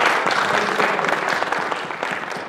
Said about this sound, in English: give the Lord a great big clap offering